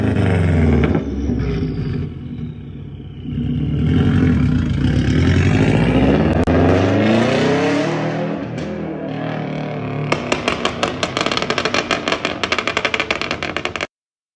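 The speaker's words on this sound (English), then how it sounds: "the Subaru burble." Subaru boxer engine with unequal-length headers gives a steady, loud, uneven burble that swells and holds for about ten seconds, then breaks into a quick run of sharp, rapid pops.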